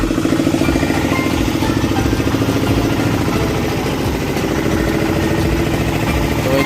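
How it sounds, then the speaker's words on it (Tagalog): A generator runs steadily during a brownout beside a jeepcycle (a gold-and-violet motorcycle-based jeep), giving a loud, continuous rattling engine drone with a constant rhythm and no speech over it. "dahil brownout mga idol, ito yung ginamit muna natin samantala. Yan, naka generator po tayo."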